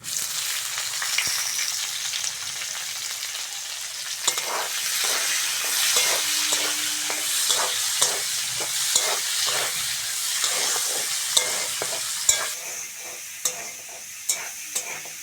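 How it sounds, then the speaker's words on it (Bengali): Dried chilli, cumin seeds and chopped onion frying in oil for a Bengali potol dish. A quieter hiss gives way to a loud crackling sizzle with repeated close spatula scrapes and stirring knocks. "এবার ওই তেলের মধ্যে শুকনো লঙ্কা জিরে ফোড়ন দিয়ে দেবো শুকনো লঙ্কা জিরে সঙ্গে দেবো পেঁয়াজ কুচি"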